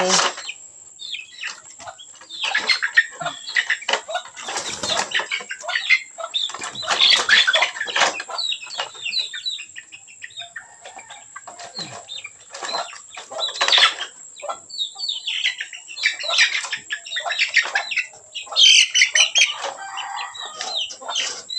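Red junglefowl in a breeding pen give repeated clucks and calls, with a steady high insect-like whine throughout and occasional wing flaps or rustling, moderately close and without talk.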